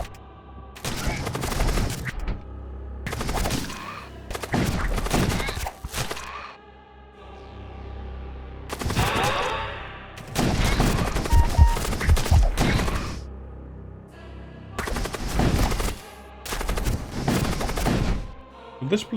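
Enemy gunfire in the space combat game Void War comes in repeated dense, loud bursts of rapid shots separated by short lulls, while a quieter voice talks underneath.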